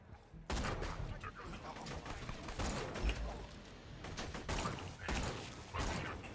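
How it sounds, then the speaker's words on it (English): Sniper rifle fire in the Borderlands 2 shooter game, with loud, sharp booming shots breaking out after a brief quiet start and recurring in bursts amid dense game noise. "This sniper is so nice to use."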